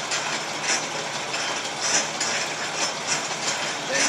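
A metal lathe runs steadily while single-point cutting threads, its feed mechanism giving a continuous clattering, ratcheting mechanical whir with faint periodic pulses, close and moderately loud, with no talking.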